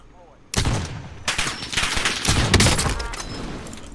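Sustained AK-47 automatic fire in Call of Duty Warzone, loud and close, starting abruptly with a few dense bursts that run for several seconds, with a voice faintly underneath.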